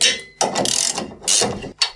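A ratchet tightens a bolt on the exhaust of a Renault 4L, three bursts of rapid close clicking separated by short pauses, with a brief final flurry.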